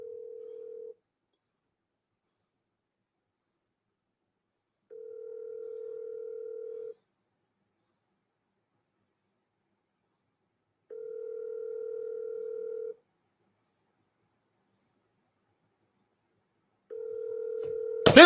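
Outgoing call ringback tone on a phone, steady pulses repeating about every four seconds, clean and alone, cut off by a sharp click at the end.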